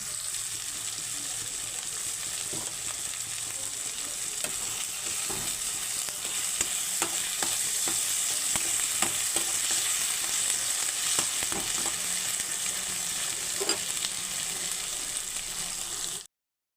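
Masala with chopped tomato and salt frying in oil for chicken keema ghugni, a steady close sizzle with scattered stirring clicks throughout, no talking.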